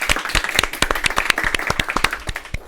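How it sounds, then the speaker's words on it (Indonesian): A burst of applause from a small group, sharp claps packed densely together and steady for a few seconds, fairly close. "Kita tepuk tangan dulu."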